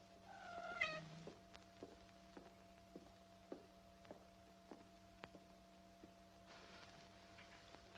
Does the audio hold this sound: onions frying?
no